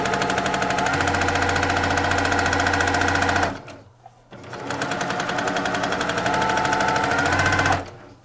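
A sewing machine stitches fabric with the presser foot lowered, sounding as two loud, rapid, rattling bursts separated by a brief stop near the four-second mark.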